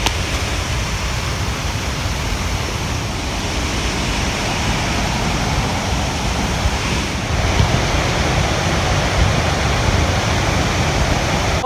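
Steady roaring rush of a waterfall at Letchworth State Park, a continuous broadband wash of falling water heard up close without a break.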